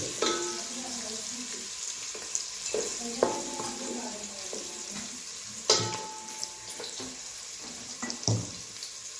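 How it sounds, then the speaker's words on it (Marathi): Raw jackfruit pieces stirred in a frying pan with spices, a spoon scraping and clattering against the metal over a steady sizzle, with several sharper knocks close by. "आणि हे चांगलं मी आता मिसळून घेते"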